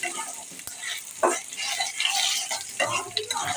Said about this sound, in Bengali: রসুনটা একটু লাল করে নিব